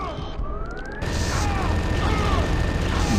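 A firestorm cannon in the video game Turok 2 fires with a crash and a burst of noise, followed by a sustained, heavy roar of blasts and crackling.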